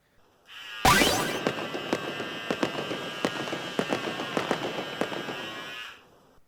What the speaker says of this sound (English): An electric shaver.